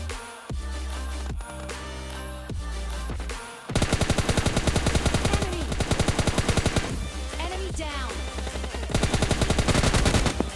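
Gunfire from a mobile battle royale game: rapid automatic bursts and single shots, first spaced out, then dense sustained rattling volleys, loud and sharp throughout.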